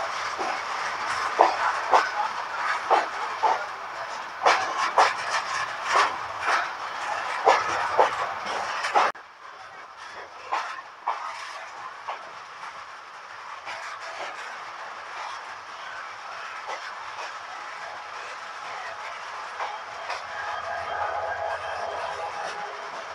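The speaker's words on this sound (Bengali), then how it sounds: "চট্টগ্রামগামী কন্টেনার ট্রেনকে কিন্তু আমরা খুব ধীর গতিতে ওভারটেক করছি।" Clickety-clack from the Porjatak Express passenger train on the Dhaka to Cox's Bazar run as it slowly overtakes a Chattogram-bound container train, with loud, close rhythmic wheel clatter that suddenly drops to a quieter, steadier rumble.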